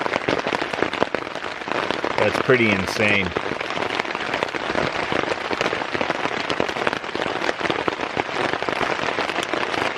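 Heavy monsoon rain pounds a backpacking tent's tarp in a dense, steady patter that fills the whole stretch, with someone speaking briefly near the start.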